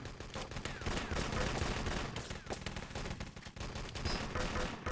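Rapid gunfire crackles through a competitive Enemy Territory match in a courtyard, dense overlapping shots running loud and continuous across the moment with faint commentary underneath.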